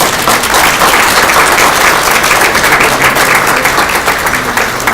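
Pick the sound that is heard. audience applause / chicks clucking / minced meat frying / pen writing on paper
audience applause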